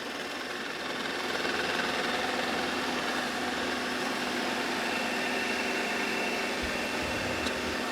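Narwal Freo Z Ultra robot vacuum sweeping up pet hair along a corner and wall, a steady close motor whir and brush hiss running throughout with a slight rise in level after the first second.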